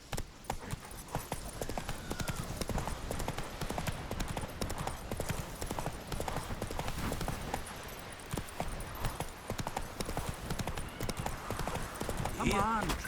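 Rapid hoofbeats of Roach, the horse from the video game The Witcher 3, pound at a gallop on Skellige terrain, close and continuous under game music and spoken dialogue.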